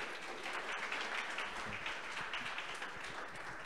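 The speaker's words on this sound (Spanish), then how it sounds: "Por favor, un aplauso." An audience at a women in data science event claps in steady, continuous applause, a moderately quiet, even wash of many hands.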